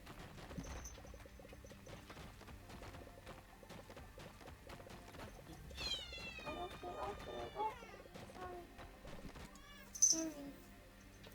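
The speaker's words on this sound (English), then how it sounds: "My cat's right underneath the table." A pet cat under a table meows twice in rising, wavering cries, alongside steady talk and faint game sounds from a computer.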